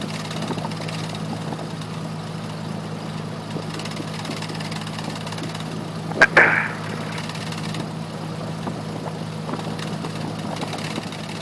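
A small propeller aircraft's engine drones steadily as it taxis and runs up, with one brief sharp click partway through. The sound is even and continuous and stays in the background, with no talking.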